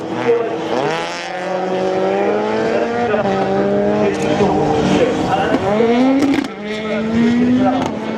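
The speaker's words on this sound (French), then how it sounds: "Pour la suite, Loïc de la Golfe GTI est à l'œuvre." A Volkswagen Golf GTI races through a slalom course, its engine revving up and down in rising and falling pulls as it shifts through gears, loud and close, with a commentator talking over it.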